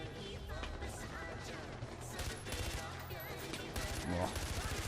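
Gunfire in the video game Far Cry 4 from a gun found under a vehicle's dashboard: dense bursts of shots and crashes over game music, with a person talking throughout.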